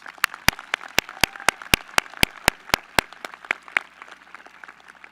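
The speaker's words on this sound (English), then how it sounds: "Let's give them a round of applause." At a high school commencement, one close, sharp pair of hands claps in an even, quick rhythm over softer applause from the crowd, the near claps stopping after about three seconds while the background clapping fades on.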